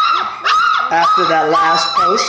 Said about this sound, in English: you can hear the puppy serenading you in the background there